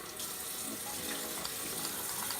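Water runs steadily from a bathroom sink tap while someone washes their face, a constant close hiss and splash for the whole short stretch with no talking.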